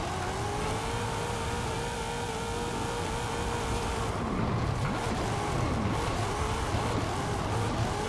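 Car engine revving steadily in Forza Horizon 5 while drifting through a bumpy banked corner on a custom Formula Drift track in third gear, with a continuous loud drone and shifting pitch sweeps throughout.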